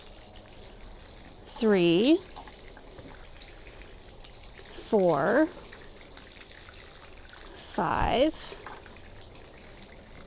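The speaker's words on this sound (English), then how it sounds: "And you don't squeeze the bottle, you just pour." Liquid fertilizer glugs from a self-measuring bottle cap into a watering can in three short pours, each a bubbling trickle, while a person counts aloud between them.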